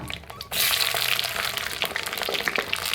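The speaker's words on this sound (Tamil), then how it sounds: "சின்ன வெங்காயம் இது எல்லாத்தையும் போட்டு நல்லா வதக்கிக்கலாம்" Garlic, green chili and shallots sizzle in hot oil in a clay pot, a loud frying hiss bursting in after a brief quiet start and crackling steadily up close.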